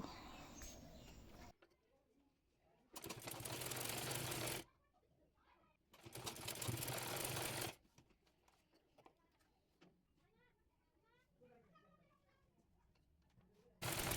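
A sewing machine stitches a sleeve piece for a kameez in two loud bursts of a few seconds each, separated by quieter stretches with faint bird calls in the background.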